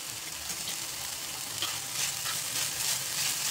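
Oil heats and sizzles in a pan before sprouted moth beans go in for usal, a soft, even frying hiss that runs steadily throughout with faint crackles and no talking.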